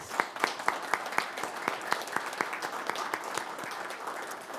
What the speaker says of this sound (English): I think you deserve a huge round of applause